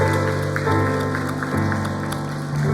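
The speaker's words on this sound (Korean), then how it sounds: "우리 함께 하시는 우리 하나님께 영광의 박수를 올려드리겠습니다" A Korean church congregation at a prayer meeting claps in praise to God, the applause scattered and light beneath sustained keyboard or organ chords that dominate the sound.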